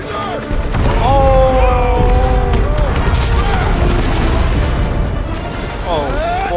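A large explosion in the Guardians of the Galaxy video game, a loud sustained rumbling blast with crashing debris under whistling and tonal game effects, a heavy roar that holds for several seconds.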